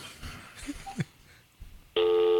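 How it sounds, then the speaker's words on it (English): A telephone rings in a live radio studio: after quiet, faint background sounds, a loud, steady electronic ring tone starts abruptly near the end and holds. "My phone is ringing."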